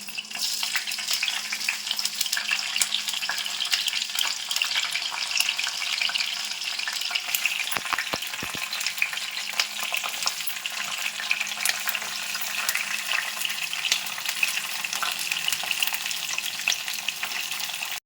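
Split green chillies and cumin sizzle steadily in hot oil in a pan, a dense continuous frying hiss that stays loud and even throughout, with occasional faint clinks.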